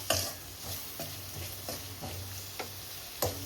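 Dried prawns and long-sliced onions fry in a pan. A constant sizzle sits under regular spatula strokes that scrape about every half second to second, close and clear with no talking.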